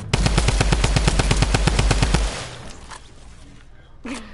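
Rapid automatic gunfire in a multiplayer shooter game rattles out in a fast, loud burst of about twenty evenly spaced shots, then cuts off into quieter game ambience with a brief tone near the end.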